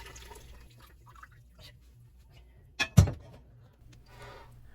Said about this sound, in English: pour the liquid back into the soup pot